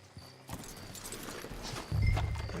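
Horse hooves clip-clop softly and steadily in Red Dead Redemption 2, a quiet, even rhythm of hoofbeats over low ambient game noise, growing slightly louder toward the end, with no voices.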